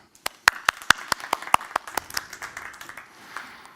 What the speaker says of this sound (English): And we give her an applause.